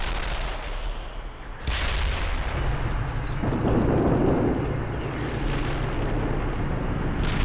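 Tank fire in the Steel Beasts simulator with a T-72B3, one sharp cannon report followed by a rumbling blast, low battlefield rumble continuing beneath at moderate distance.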